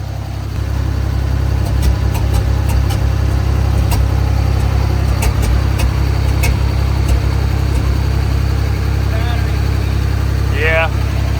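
A Mercruiser 5.7L boat engine with an Alpha One drive runs loud and steady, a constant deep engine drone with faint clicking throughout, while people talk over it.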